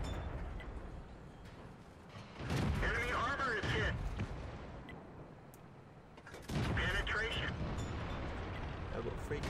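Tank gun shots in a tank battle game, a T1 Heavy firing at a heavy tank: two heavy booming blasts a few seconds apart with long rumbling decay, loud over a constant engine-like drone, with talk heard.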